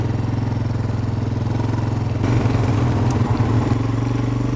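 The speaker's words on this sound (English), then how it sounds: "I think I might have to put the mower on and go over this." A mower engine runs steadily and close by out in a cattle field, with a loud, even low chug that picks up slightly and grows rougher partway through, with no talking.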